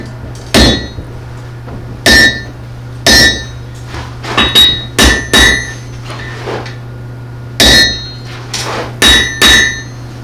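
A blacksmith at a smithing event hammers hot metal, blading off about half an inch of material: loud, sharp ringing blows come in uneven groups of one to three over a steady low hum.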